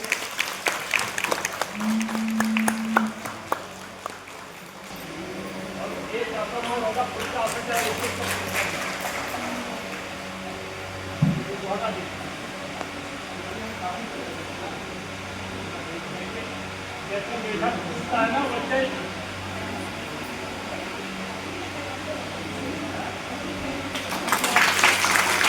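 An audience claps loudly in a burst of applause, which thins out under a steady mechanical hum with voices and then swells again briefly at the very end.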